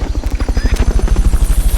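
A Fulton recovery helicopter in the video game Metal Gear Solid Peace Walker gives a loud, close, steady rotor thumping, with fast, even pulses running through the whole stretch.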